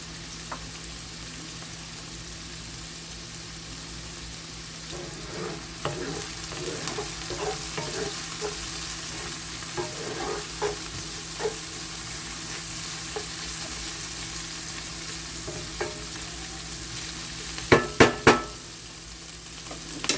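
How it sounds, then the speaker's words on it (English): Onion fries in a pan, a soft steady sizzle with scattered scrapes and taps as it is stirred, faint throughout, ending with a few sharper clinks near the close. "we're just going to let this onion get a little translucent, browned up a little bit"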